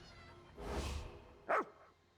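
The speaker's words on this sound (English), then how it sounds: "The dog whines anxiously." A dog in the video game Elder Scrolls Online gives a breathy whine, then a short sharp bark-like yelp a moment later, both fairly faint.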